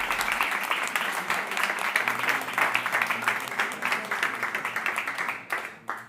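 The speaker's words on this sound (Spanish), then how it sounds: "Aplauso." Film crew on a set of the Spanish series Los sin nombre clapping in sustained applause, a dense steady patter of many hands that thins out near the end.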